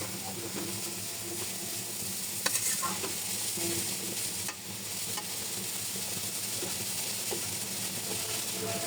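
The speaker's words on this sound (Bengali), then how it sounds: "এখন আমরা হালকা নাড়াচাড়া করে দিচ্ছি" Snake gourd dish being stirred in a pan, a steady soft sizzle of frying with scraping and clinking of the spoon against the pan throughout, close by and continuous.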